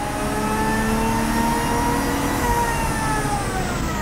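A Lexus IS200 engine runs at part throttle on a dyno with a steady mid-pitched drone, its harmonics slowly rising. It is loud and continuous throughout, with no talk.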